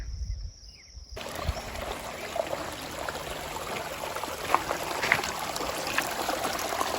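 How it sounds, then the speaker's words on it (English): A small creek trickling over a rocky bed in the mountains of Utah's Wasatch Front, a soft steady burble with light splashes, rising after a brief quiet start. "Beautiful little creek bed."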